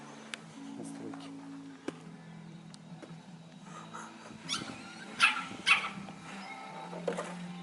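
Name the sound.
hunting dog barking and whimpering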